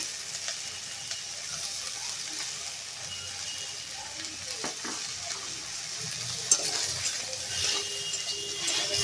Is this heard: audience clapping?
no